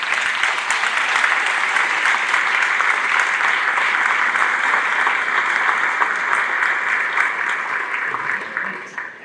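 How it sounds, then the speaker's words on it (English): A school concert audience applauds in a sustained, full burst of clapping that holds steady for most of its length and tapers slightly at the end. "Let's give you a round of applause for all your help."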